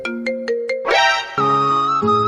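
A phone ringtone for an incoming call plays loudly and close: four short beeping tones, then a bright rising chime and a sustained melodic tone, with no speech.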